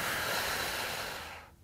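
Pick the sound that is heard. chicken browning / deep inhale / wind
deep inhale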